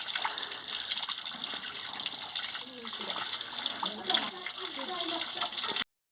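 Tap water gushes steadily as straw mushrooms are washed. A continuous splashing stream runs close by with faint handling sounds, then cuts off at the end.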